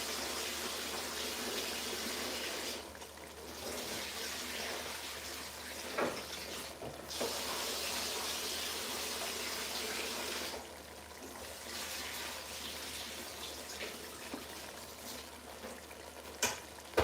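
Warm tap water runs steadily over rice, a soft continuous hiss with brief pauses as the stream is interrupted, fairly quiet and close.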